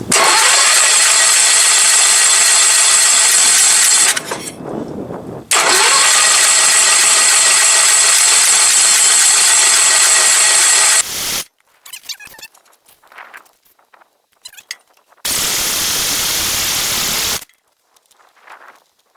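A Sears lawn tractor engine with a loose coil wire cranks and fires in loud, close bursts, running roughly for several seconds at a time, then cutting out between shorter sputtering attempts.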